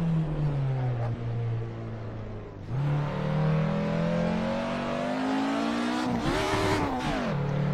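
A car in a racing game is driven round a corner and up a hill, its engine revving and dropping in pitch as gears change without the clutch, loud and steady throughout with a surge near the end.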